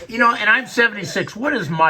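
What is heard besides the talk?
None of the usual background noises is heard.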